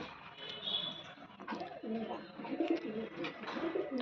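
Female pigeon cooing in a loft, low soft coos repeating in a loose rhythm throughout, close by, with faint background bird and room noise.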